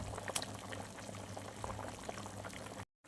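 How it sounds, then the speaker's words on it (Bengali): Jackfruit kofta curry gravy boils in a pot with a soft, continuous bubbling and gurgling, fairly quiet and close, cutting off abruptly near the end. "আমার ঝোলটা 5 মিনিট ফোটানো হয়ে গেছে। এবার আমি বড়াগুলোকে দিয়ে দেবো, দিয়ে আমি 2 মিনিট মতন ফুটিয়ে নামিয়ে নেবো।"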